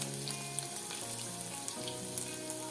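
Chopped ginger and onion fry in hot oil in a pan for drumstick thoran, giving a steady, close, crackling sizzle with faint background tones and no talking.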